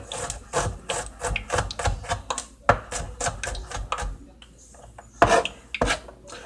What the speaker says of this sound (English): Same thing with the onions. You want to chop them up as fine as possible.